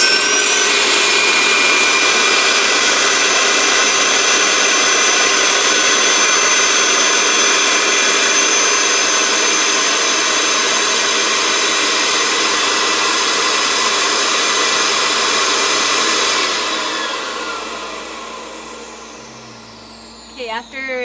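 A vacuum former pulls down a heated plastic sheet to shape bleach trays, giving a loud, steady roaring rush that holds for about sixteen seconds, then winds down and fades near the end.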